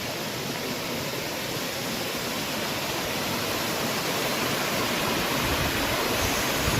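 A small waterfall pours in a continuous, even rush of flowing water, close and full, with no voices over it.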